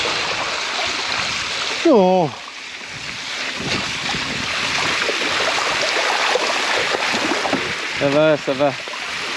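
A small stream flows past during a mountain bike ride on Hutchinson Toro tyres, a steady rushing wash mixed with wind buffeting the microphone, and brief spoken words break in twice.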